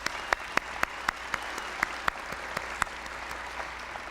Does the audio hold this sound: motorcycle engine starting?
no